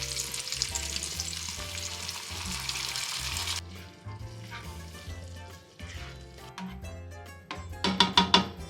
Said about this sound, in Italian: una volta soffritto le verdure e il grasso mettiamo il nostro pomodoro